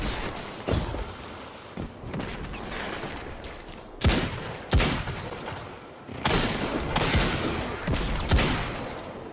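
Shotgun blasts in the Crucible video game, several sharp loud booms spaced a few seconds apart over ongoing game noise, no talking.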